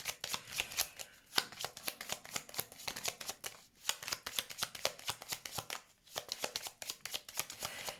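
Tarot cards are shuffled and laid down on a table in a steady run of crisp, close riffling and flicking snaps, with brief pauses between bursts and no voices.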